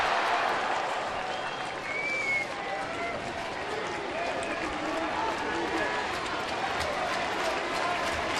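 A baseball stadium crowd in the bottom of the ninth makes a steady, moderately loud roar of cheering and clapping, continuous throughout with a commentator talking over it.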